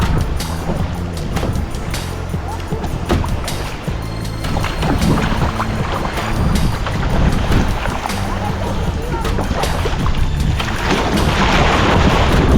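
A motorboat engine drones steadily through the whole stretch on the Adriatic off Vodice, Croatia, amid water noise and splashing, loud and continuous, with occasional voices mixed in.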